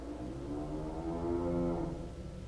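A cow-like creature in the video game It Moves gives a single long, low, steady moo, near and moderately loud, with no talk over it.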